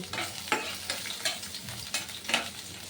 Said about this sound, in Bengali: গাজর কুচিটা আমি একটু ভেজে নেব